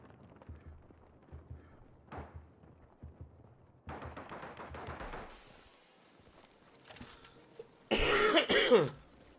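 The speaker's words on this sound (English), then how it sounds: "Yeah, so just gonna still got a bit of a cough." Throat clearing and coughing from a player during a Land of War beach defence battle, short rough bursts scattered between quiet gaps, with a louder burst of game noise near the end.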